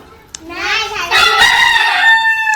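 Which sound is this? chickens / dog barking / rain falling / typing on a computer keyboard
chickens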